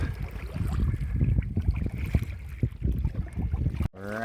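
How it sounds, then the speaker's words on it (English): A kayak is paddled along coastal water among islands, with irregular splashes and water sloshing close to the boat and light wind noise, before a brief cut to a different sound at the end; no talking. "We're just paddling along."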